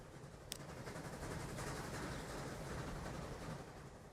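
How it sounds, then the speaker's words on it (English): A passenger train running on rails in the video game Transport Fever 2, a steady rumbling roll with rhythmic clatter of wheels, continuous and fairly close, with a single sharp click near the start. "Train 7 is on its way for its first load of passengers for Route C"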